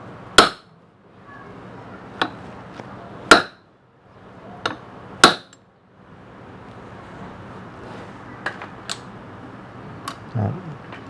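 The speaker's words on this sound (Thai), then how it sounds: "ถ้ามันผิดรูปก็เอามาตอก คืนรูปมันไปใหม่นะครับ" Sharp metallic hammer strikes on a fan motor bushing, several spaced irregularly, ringing close against a quiet workshop background with faint murmuring.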